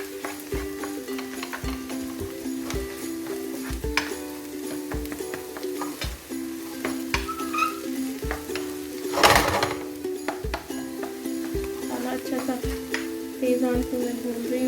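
Potato samosa filling roasting with masala in a pan over high heat, a steady sizzle with repeated spoon scrapes and stirring clinks against the pan, close by, with no talking.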